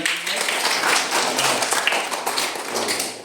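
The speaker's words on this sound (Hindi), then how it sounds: "चलो तालियां बजा" Schoolchildren clap at a school awards event, a steady dense patter of many small hands filling the room for a few seconds.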